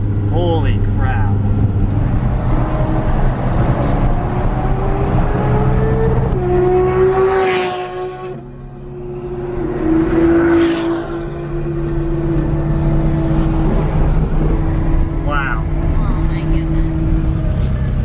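McLaren 570s engine while driving, a loud, close exhaust note that climbs in pitch through revving pulls, dips briefly, then surges again over road noise, with no clear speech.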